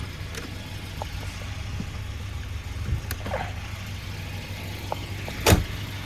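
A 1992 Volvo 240 with 480,000 km on it idles near the mic, a low steady engine rumble broken by a few clicks and knocks, then a louder clunk near the end.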